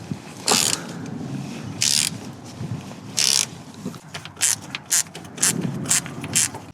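A ratchet on an extension works loose the bolts under a mini excavator, clicking in short repeated bursts of metallic ratcheting with pauses between strokes, close by and without talking.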